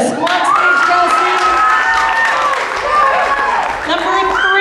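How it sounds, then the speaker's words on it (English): Loud crowd applause with cheering and whoops as a contestant is called on stage at a competition, sustained clapping from a large audience throughout. "Please give a nice round of applause"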